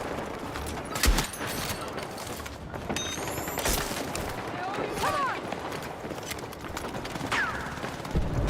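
Gunfire in Counter-Strike during a professional match, scattered shots and bursts cracking through a busy mix with a commentator's voice running over the top.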